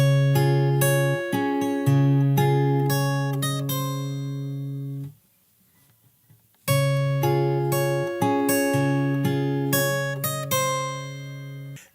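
Fingerstyle acoustic guitar picking a verse pattern, clear plucked notes over sustained bass in a steady rhythm, a brief silent gap near the middle before the phrase repeats, played alone.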